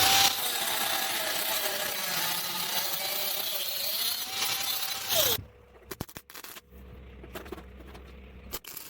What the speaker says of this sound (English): and then we'll get it welded up.